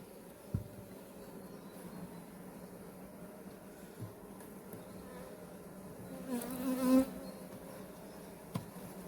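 Honey bees buzz around an open hive frame at a forest apiary, a faint steady insect hum throughout with a louder buzzing pass near the end and a few soft handling knocks.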